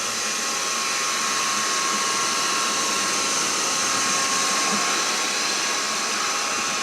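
A Black & Decker Dust Buster handheld vacuum sucks up crumbs, its motor a steady loud whine that runs unbroken from start to end, with no talking.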